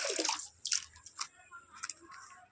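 Water poured into a drinking dish for pet birds, several short splashing bursts separated by pauses, close and fairly quiet.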